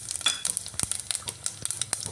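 Cumin, cinnamon and two cardamom pods hit hot oil for tempering, giving a close, crackling sizzle with quick popping spatters and faint stirring, and no talking.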